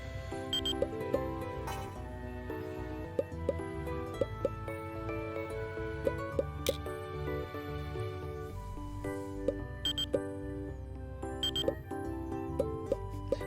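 Repeated electronic beeping alerts as bugs appear in the Mad Games Tycoon management game, with short beeps over steady background game music.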